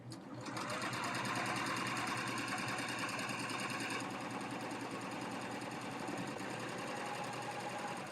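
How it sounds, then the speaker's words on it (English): A Baby Lock serger runs steadily at close range, stitching a folded fabric crease with corded yarn to form a tuck, its fast even hum unbroken by talk. "And now we'll serge away."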